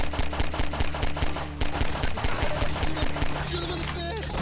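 Rapid automatic gunfire in the Half-Life 2 mod The Citizen, loud bursts of repeated shots close by with a steady rhythm, plus scattered game effects and some talk over the combat.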